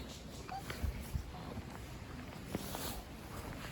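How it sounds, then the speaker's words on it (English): Wind buffets the microphone outdoors in a steady, rushing roar, with a few faint thumps beneath it. "A bit windy, isn't it?"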